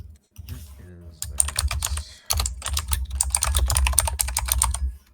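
Loud mechanical keyboard clacking in rapid, uneven bursts with brief pauses, close and prominent, while a voice talks faintly underneath during an online tabletop game session.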